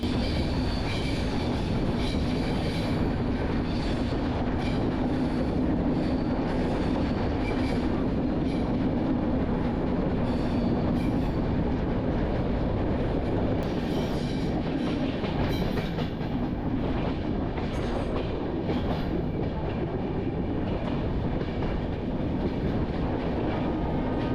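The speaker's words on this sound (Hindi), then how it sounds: "हमारा ट्रेन आज की इस खूबसूरत जर्नी की पहली टनल में एंट्री" A passenger train on the Visakhapatnam to Araku Valley line climbing into the hills, a loud continuous rumble of wheels on track with rhythmic clatter throughout.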